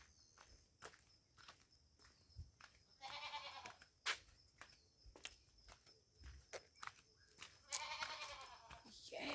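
Goats bleat on a Kenyan village farm while footsteps crunch steadily close by, the animals calling loudly a few times over the walking, with faint talk in the background.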